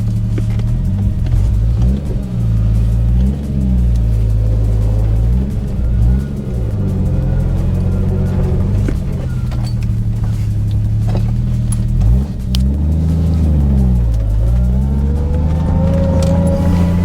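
A Toyota Supra MK3 Turbo drives along, its engine note rising and falling through repeated revs and gear changes, loud and close from inside the car, with some talking.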